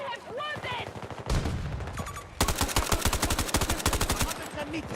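AKM assault rifle fired in Battlefield 2042, heard as rapid, loud bursts of hard-hitting automatic shots, a long steady run near the end, with a voice speaking over the early part.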